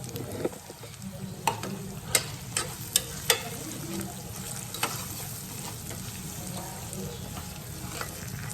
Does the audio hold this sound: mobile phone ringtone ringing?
no